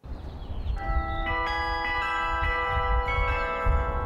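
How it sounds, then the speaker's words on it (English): Carillon bells ringing from a campus bell tower, several struck notes layering into sustained, shimmering overtones that hang and overlap over a low background rumble, with no talking. "the carillon inside is the campus's signature sound"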